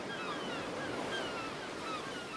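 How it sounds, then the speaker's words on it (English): A brisk winter sea breeze blows across a British pier with waves washing below, making a steady broadband rush of wind and surf and the faint cries of distant gulls drifting over the top. "Further up the pier you go, it gets windy, and so... It's a fairly brisk breeze"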